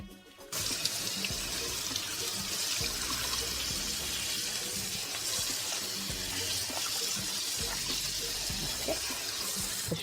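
Shrimp rinsed under a running kitchen tap, a steady close stream of water splashing into a sink for the full length, starting after a brief quiet moment.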